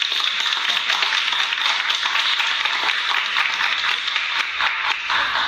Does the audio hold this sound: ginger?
no